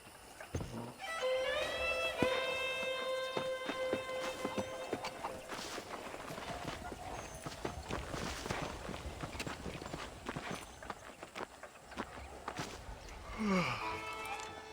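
Horse hooves clip-clop at a steady riding gait in the Red Dead Redemption video game, mixed under in-game music and other game sounds for most of the stretch.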